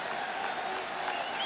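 Packed Yankee Stadium stands at a 1977 World Series game, a continuous broad crowd roar with scattered applause, steady and even throughout.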